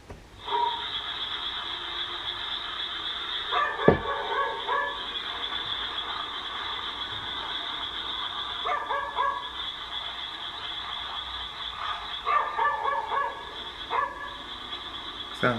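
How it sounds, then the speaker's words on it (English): Dog barking somewhere in a graveyard at night, distant and faint, heard through a steady hiss of background noise with a few sharp handling thumps; no talking. "he decides to film as he searches for the barking dog"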